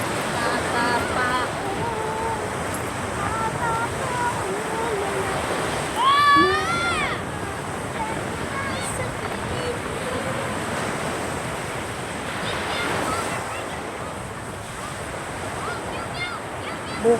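Sea waves wash continuously onto a beach shore in a broad, steady surf, with faint voices and a brief high call rising above it midway.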